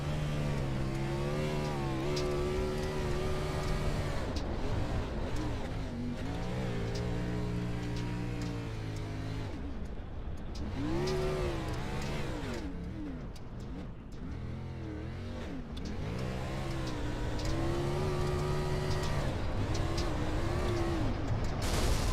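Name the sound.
race car engine revving in Iron Thunder Racing League video game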